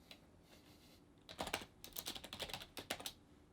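Someone types a password on a computer keyboard: a short burst of quiet, close key clicks in an irregular rhythm, preceded by a brief pause, alone with no speech.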